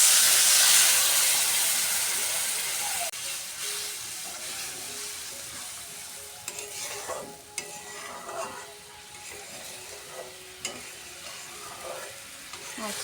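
Spiced water hits reddened, fried onions in a hot pan, bursting into a loud hiss that fades to a softer sizzle. Scattered clinks from stirring follow while a catla fish curry is prepared.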